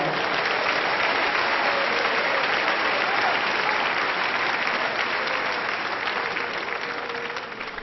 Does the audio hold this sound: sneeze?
no